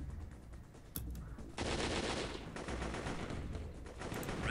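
Machine gun fire rattles in a war video game, sustained bursts of rapid shots continuing over a few seconds at moderate distance, without talk.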